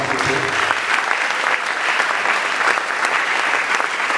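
An audience at a travel conference in Kinshasa applauds a visiting professor, sustained dense clapping from a sizeable crowd, even and continuous with faint voices mixed in.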